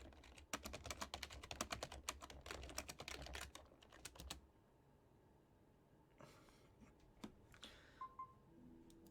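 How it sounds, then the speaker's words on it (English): Rapid clacking of keys on a computer keyboard, a quick run of close taps for several seconds, then a pause and a few scattered keystrokes. "It feels weird typing in my own chat."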